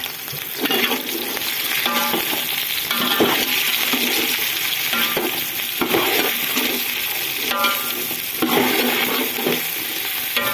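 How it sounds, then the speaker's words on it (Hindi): Okra with red chillies fries in a pan with a loud, continuous sizzle, while a utensil scrapes and stirs in repeated rough strokes throughout. "जी अब जाए मैं भिंडी ऐड कर रही हूँ क्योंकि हमारी सब्ज मिर्चें जो है लाल कलर की हो गई हैं।"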